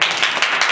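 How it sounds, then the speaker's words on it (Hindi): A classroom of students claps briefly, a short burst of loud, overlapping hand claps lasting under a second. "ताली बजा दो।"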